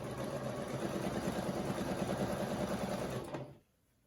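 Sewing machine running steadily while stitching scrappy granny squares together for a throw quilt, a close, continuous mechanical whir with rapid needle rhythm for about three and a half seconds before stopping abruptly.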